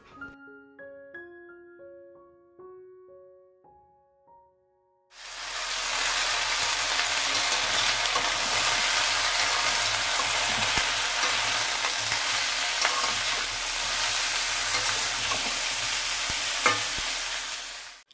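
Spice paste fries in oil in a wok, a loud continuous sizzle with stirring scrapes running for about thirteen seconds after a short stretch of soft melodic tones.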